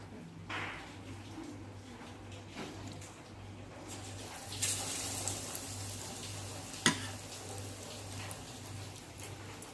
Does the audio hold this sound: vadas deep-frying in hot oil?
yes